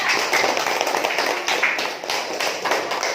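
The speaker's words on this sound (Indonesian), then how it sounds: "Aplaus dulu untuk kelompok 3." Classroom applause for a student group in a teaching practice session, a burst of scattered hand claps from a small audience lasting a few seconds.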